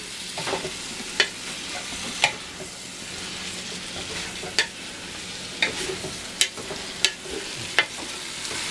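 Meat, onion and garlic sizzle steadily in a pot for Zuppa Toscana while a spoon stirs, with sharp scraping clicks and knocks against the pot every second or so over the constant frying crackle.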